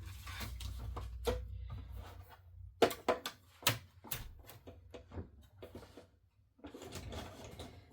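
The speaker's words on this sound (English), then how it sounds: "I put some of my sticky tape on here and ran this through our cut and emboss machine." Cut and emboss machine feeding cardstock layered with sticky tape through its rollers, uneven mechanical clicks, thumps and grinding pulses close by with short pauses between.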